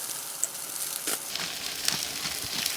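Bok choy from the garden sautés in a pan with a steady soft sizzle, broken by a few light clicks and scrapes as it cooks.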